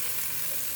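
Sausages sizzle in a pan with onion and garlic paste, a steady close hiss of frying fat filling the short moment without any speech.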